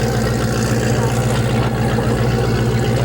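Offshore Superboat racing boat engines roar in a steady, loud, low drone at the 1987 Blue Water Tourism Classic, running continuously without a break.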